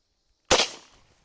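A single sharp .44 caliber lever-action rifle shot fired during a velocity test, one loud close crack with a short decaying tail, alone after silence.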